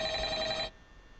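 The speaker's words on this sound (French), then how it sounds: "Téléphone." An electronic telephone rings once in the Five Nights at Freddy's horror game, a loud, buzzy trill that cuts off abruptly after a moment and leaves quiet room tone.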